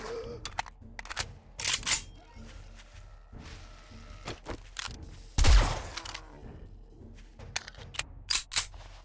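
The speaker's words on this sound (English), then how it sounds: "We'll carefully use the Tommy gun on him again." Bursts of Tommy gun fire in the zombie survival game 7 Days to Die, with sharp shots scattered across the scene, one heavy burst standing out and quieter game noises in between.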